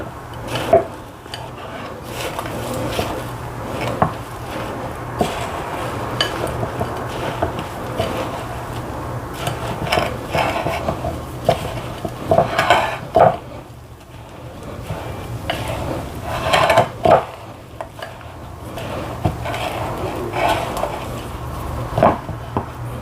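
A spoon or spatula works oat cookie dough mixed with seeds in a bowl, giving uneven scraping and knocking strokes that come and go with short pauses.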